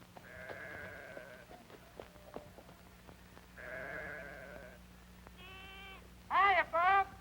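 Sheep bleat on a Rockies ranch, a series of drawn-out wavering calls spaced apart, some distant and soft, ending with two loud, close, quavering bleats, over faint background noise and occasional clicks.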